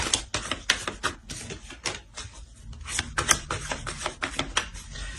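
Tarot cards being shuffled, drawn and laid down during a reading, heard as a quick run of crisp, close taps and flicks of card stock against a table, loud and alone with no talk.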